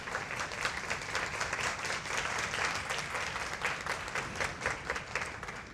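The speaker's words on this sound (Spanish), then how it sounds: "Denle un aplauso a Dios por eso." A church congregation applauding, dense and sustained clapping from many hands that fills the whole stretch at an even level, with no talk over it.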